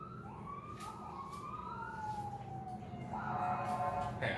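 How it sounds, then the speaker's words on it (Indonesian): An ambulance siren passes on a street outside, its rising and falling wail faint at first and then louder and closer near the end, over steady low background rumble. "Ada ambulan lewat."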